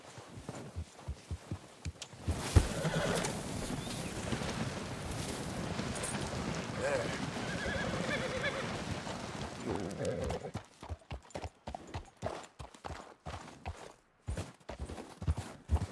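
Horse hooves clip-clop steadily in Red Dead Redemption 2, a dense busy stretch in the middle that thins into scattered hoof thuds near the end; no clear neigh stands out.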